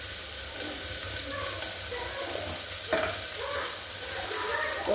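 Onions frying in a pan give a continuous, close sizzle, with an occasional scrape or tap of a spoon stirring them and no talk.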